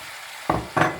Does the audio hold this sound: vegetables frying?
yes